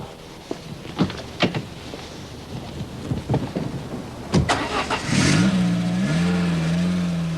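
Citroën ZX car from 1991 on a drive, with scattered knocks and bumps at first, then a steady engine drone rising in pitch as it pulls away, fairly close and continuous to the end.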